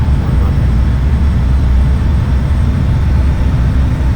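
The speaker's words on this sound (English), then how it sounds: "Throttle up. Full throttle. Full thrust." Learjet 45 jet engines at full takeoff thrust, a loud, steady, low-heavy roar that holds constant without a break, heard from close by.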